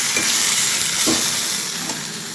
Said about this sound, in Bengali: কাঁচা লঙ্কা, আদা দিয়ে সেই পেস্টটা দিয়ে নেব। আর এটা ভালো করে মিক্স করে নেব।